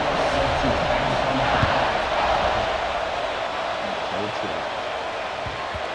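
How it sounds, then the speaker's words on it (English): Steady, loud broadband roar of a stadium crowd at a Tennessee at Alabama game in College Football 26, buzzing continuously throughout with faint voices mixed in. "this crowd is buzzing after that last score"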